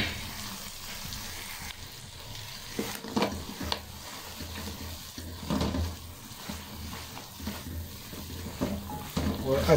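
Goat lungs fry with black pepper and other spices while being stirred in a pan, giving a moderate sizzle with scraping and clinks under intermittent talk.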